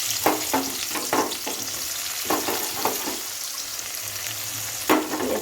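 Onions going into hot oil in a pan already seasoned with bay leaf and cumin, giving a steady close sizzle broken by several sharp scraping stirs of a spatula.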